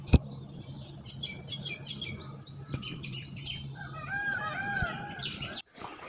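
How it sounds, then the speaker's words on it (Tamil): Outdoor morning birdsong with chirps and calls layered over a low hum, including a loud sharp peacock cry at the start and drawn-out calls later. "மயிலோட சத்தமும் நல்லா கேட்கும்."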